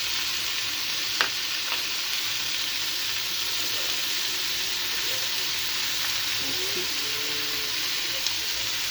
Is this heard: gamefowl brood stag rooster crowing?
no